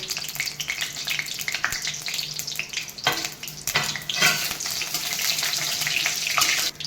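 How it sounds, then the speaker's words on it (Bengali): Whole dried chili, three cardamom pods and cumin seeds drop into hot oil for a Bengali koi fish gravy, giving a steady sizzle with brief stirring clatters and a few sharper crackles throughout. "তেল আমার গরম হয়ে গেছে আমি এই লঙ্কাটা আর তিনটে এলাচ আর এই জিরে ফোড়ন দিয়ে দেব"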